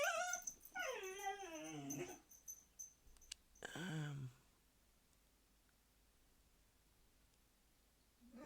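A dog whimpers and yips nearby, a long descending whine followed by a second shorter sliding yelp, with quiet room noise and faint clicks around it.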